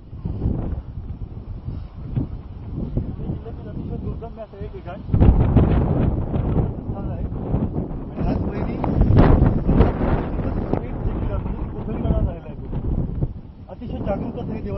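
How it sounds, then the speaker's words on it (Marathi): Strong wind gusting on the exposed clifftop at Dhak Bahiri fort, a continuous rough roar buffeting the microphone that rises and falls in loudness, while people talk underneath. "भरपूर हवा सुटले."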